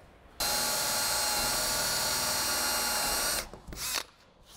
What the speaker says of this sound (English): Okay, we'll take it back off and drill it over there.